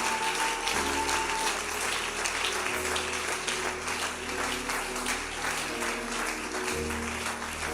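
A church congregation claps steadily and loudly throughout, a dense, sustained round of applause that fills the room with only faint voices beneath it.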